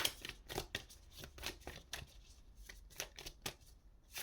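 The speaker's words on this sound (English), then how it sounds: "Just give me a second while I shuffle the other deck that I hadn't prepared." A deck of tarot cards being shuffled by hand in quick repeated riffles and slaps, close up and fairly soft, with a steady uneven rhythm and no talking.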